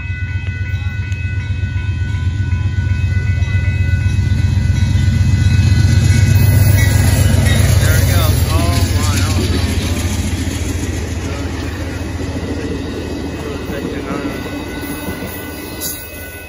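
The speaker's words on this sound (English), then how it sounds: "Here comes Amtrak" An Amtrak Texas Eagle passenger train rolls past close by at a road crossing in Austin, Texas, its loud steady rumble swelling to a peak and then easing off, with faint wheel squeals over the clatter.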